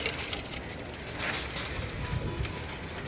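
A flock of blue Kamagar pigeons, loud and close, with soft cooing and fluttering wing noise carrying on steadily over a busy outdoor backdrop.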